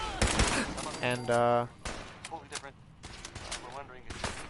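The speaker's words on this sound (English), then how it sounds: "I shoot them down to half with the Gatling laser." Gatling laser fire in Fallout 4 aimed at approaching deathclaws outside Red Rocket, a burst of rapid buzzing shots followed by scattered impacts and creature noise, with someone narrating over it.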